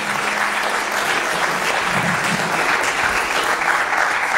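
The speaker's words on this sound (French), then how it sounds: "On peut les applaudir." Sustained audience applause after a data conference presentation, a dense even clatter of many hands filling the room at steady loudness throughout.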